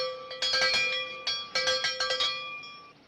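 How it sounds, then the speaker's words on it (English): A bell clanged as a signal in a comedy scene, sounding a ringing metallic tone in uneven bursts of struck strokes that decay away to quiet at the end. "That's 4 clangs. That's a lunch signal."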